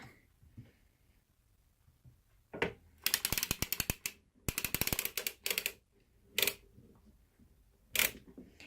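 The carriage of a circular sock knitting machine is turned by hand while making a newborn baby bonnet, giving close, rapid ratcheting mechanical clicks in several bursts separated by short pauses.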